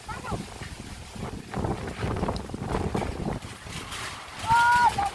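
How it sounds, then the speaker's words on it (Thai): Strong storm wind gusting outdoors at a house in Thailand, a steady broadband roar that swells and buffets the microphone, with a person talking over it throughout. "พายุเข้าแล้ว"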